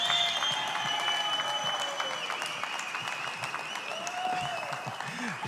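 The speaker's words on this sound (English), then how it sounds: "Your applause for King James." Audience applause for King James at a corporate closing ceremony, a steady dense wash of clapping that holds at an even level throughout.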